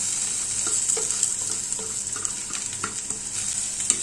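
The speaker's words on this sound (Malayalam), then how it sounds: "എന്നിട്ട് ഇതും നല്ലപോലെ ഇളക്കി അങ്ങോട്ട് കൊടുത്ത് വഴറ്റി അങ്ങോട്ട് എടുക്കാം." Sliced onions and shallots sautéing with ginger and garlic in hot oil, a steady close sizzle broken by repeated scraping stirs in an irregular rhythm.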